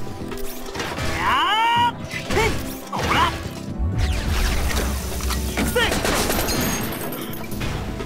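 Rapid submachine gun fire and impact crashes in the combo-heavy mecha action game Baldr Sky, loud and dense throughout with bursts and metallic clatter, and some speech mixed in.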